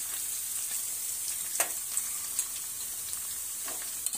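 Ginger and garlic fry in a pan with a faint, even sizzle and a few soft ticks of the spoon, steady and unbroken.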